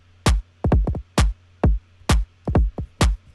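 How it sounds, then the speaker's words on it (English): Kick and snare drum samples for a hard, bouncy UK garage beat, pushed together through one compressor, hit in a crunchy, syncopated pattern of about nine loud, punchy strikes with no talking. "So this kick and snare together compress into the same compressor to sound like this."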